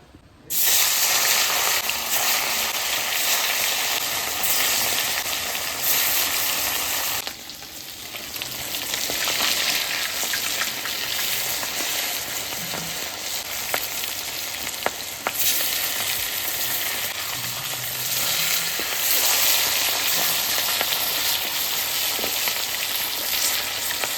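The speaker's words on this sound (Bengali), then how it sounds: "এবার আমি মাছটা ভেজে নেব" Katla fish fries in hot oil with a loud, dense, continuous sizzle up close, briefly dipping once before surging back, with no talking.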